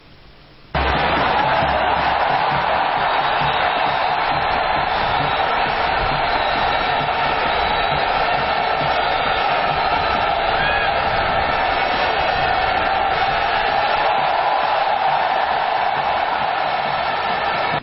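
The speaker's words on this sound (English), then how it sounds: "acknowledged the cheers from the appreciative crowd" A large appreciative crowd cheering and applauding in a steady, loud, continuous roar that runs almost without a break after a brief quiet start.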